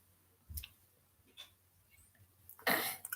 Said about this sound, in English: I'll have to clear my throat first before I have to speak.